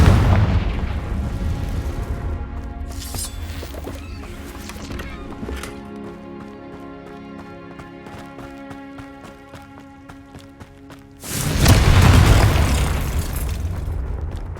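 A Confringo fire spell going off in Hogwarts Legacy, heavy booming blasts with clattering game effects, ending in a loud surging explosion burst near the close, with no talking.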